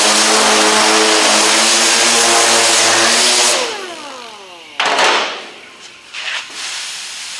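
A dual-action air sander smooths bodywork on a 1967 Pontiac GTO restoration. A loud, steady whine winds down, then short bursts of air hiss follow, with no one talking.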